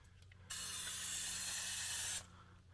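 A single sustained hiss of aerosol undercoating spray, close and loud, lasting under two seconds before cutting off sharply.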